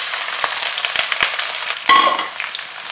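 Garlic, curry leaves and onion fry in hot oil for tomato rice, giving a close crackling sizzle with a few sharp clicks of stirring and a louder burst of hissing partway through.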